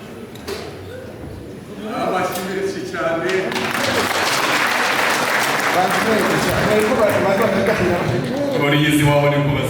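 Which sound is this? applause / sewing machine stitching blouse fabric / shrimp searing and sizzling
applause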